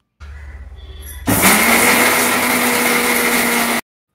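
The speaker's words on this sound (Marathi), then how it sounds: "टोमॅटो आणि आलं लसूण वगैरे घालून परत पाणी घालून थोडंसं वाटण करून घेतलं" A kitchen mixer grinder blends tomato, ginger and garlic with water into a masala paste. A low whir jumps into a loud, steady grinding roar that runs for about two and a half seconds before stopping abruptly.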